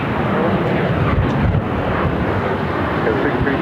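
A Boeing 737 on takeoff roll from runway 7 left at Phoenix gives off a broad, continuous roar at moderate distance, with faint radio voices in the background.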